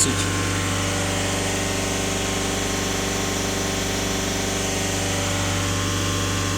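A VW Passat 1.6 TDI diesel engine runs steadily at 3000 rpm, a close, constant hum with a strong low drone and even tonal harmonics throughout, no talk.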